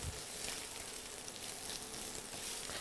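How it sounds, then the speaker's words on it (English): Onions frying in a pan sizzle with a steady, dense crackling hiss, close and even throughout, with no voices over it. "you wanna hear that sizzle"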